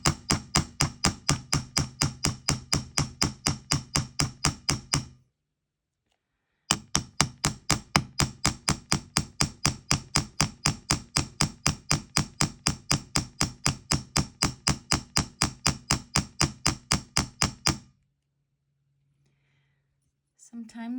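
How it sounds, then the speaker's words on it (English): Rapid, even hammer blows strike a small metal lightning bolt paddle charm, a fast regular tapping burst for about five seconds, a pause, then another long steady run of ringing strikes up close. "kind of dragging that hammer from the end up"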